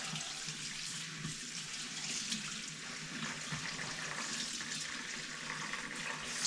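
Water runs steadily from a kitchen tap while a turkey is rinsed in the sink, a continuous close splashing hiss with slight shifts in flow and no speech.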